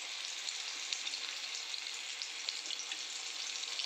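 Cabbage pakoda puffs deep-frying in hot oil, a steady close sizzle with fine crackling and light popping throughout, no talking.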